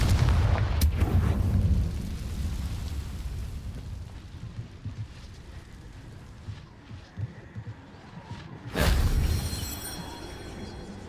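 In the Hogwarts Legacy video game, a Confringo blasting spell sets off a loud explosive rumble that fades into a low, crackling aftermath, followed later by a second sharp burst.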